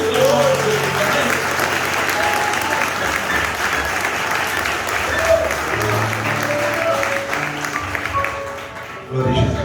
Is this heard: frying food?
no